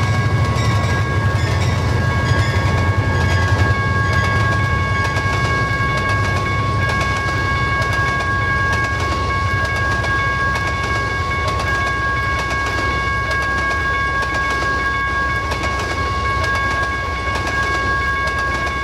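A Conrail freight train passes at about 54 mph on a main line. The rolling rumble and clickety-clack stay loud and steady throughout, close by, with high squealing wheel tones running through it.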